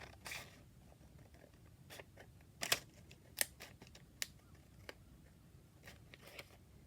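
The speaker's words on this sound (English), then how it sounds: "I need to cut those out with my big scissors" Big scissors snip through paper and gift cards, a handful of sharp, quiet cuts spaced irregularly against a faint, still background with no talking.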